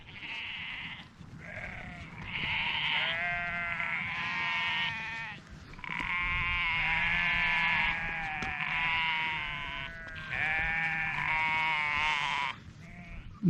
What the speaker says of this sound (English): The more I look at these sheep,